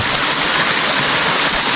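A jungle waterfall stream rushes loudly and continuously close by, a broad steady roar of flowing water with no speech over it.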